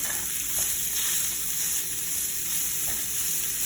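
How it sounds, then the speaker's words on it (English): Ground beef frying in a hot pan while a spatula breaks it into chunks, giving a loud, steady, continuous sizzle close by. "And then we're gonna break it up with our spatula."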